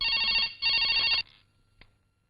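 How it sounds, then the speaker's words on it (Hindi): A telephone rings in two long electronic bursts with a short gap between them, loud and close, then cuts off into near silence with one faint click. "अनु को फोन करना इतनी सी बात है। ए लो, करो।"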